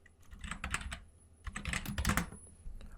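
Typing on a computer keyboard while entering text in an Excel spreadsheet: quick bursts of close, crisp key clicks separated by a brief pause, with no talking.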